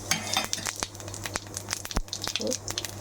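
Cumin and carom seeds crackling in hot oil for tempering a potato dish, a close, busy spatter of small pops and hisses over a few seconds.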